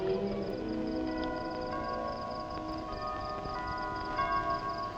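A church bell rings at eleven o'clock, its tolling hum lingering steadily at moderate distance in a period drama scene set in Majorca.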